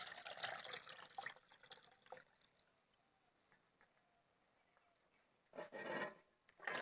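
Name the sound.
washing sliced raw bananas in water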